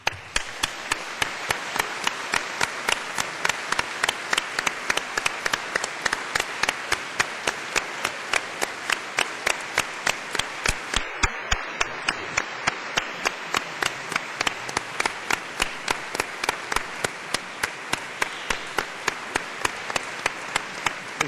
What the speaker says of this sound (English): giving them all a very big round of applause